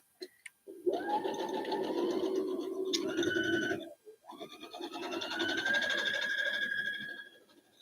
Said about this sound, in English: I have no reason for back stitching here.